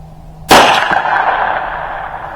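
A single sharp crack from a scoped .22 Long Rifle, Ruger or Savage, fired outdoors. The report comes loud and close and is followed by a short ringing decay, with no talk.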